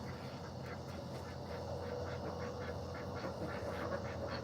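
Backyard ducks quack at bedtime, a soft, distant run of repeated quacks under a steady background hum, continuing evenly throughout.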